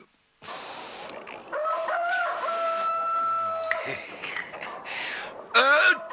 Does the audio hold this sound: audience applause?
no